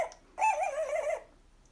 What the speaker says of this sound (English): followed by Pluto, who was barking